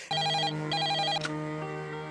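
A telephone rings in a scene from the 1998 Bollywood film Satya: two bursts of electronic ringing followed by a sustained tone, loud and clear with no voices.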